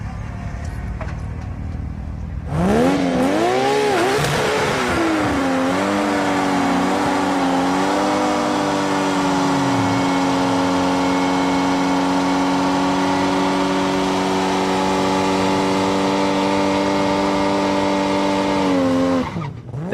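A JZX90 Mark II drag car fitted with an 800 hp RB26 engine roars loud and close, its revs sweeping up before holding a long, steady, high-pitched wail at full throttle, then cutting off abruptly.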